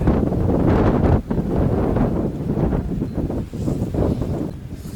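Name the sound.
strong cold wind blowing from the north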